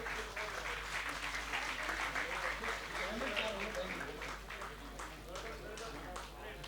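An audience at a Hindi poetry recital claps in sustained, moderately loud applause, dense overlapping hand claps continuing throughout with voices mixed in.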